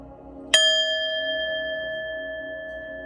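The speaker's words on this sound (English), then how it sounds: "I'm going to ring the bell, clear your energy" A single bell is struck once to clear energy, its bright clear tone ringing out close and alone, then fading slowly over several seconds.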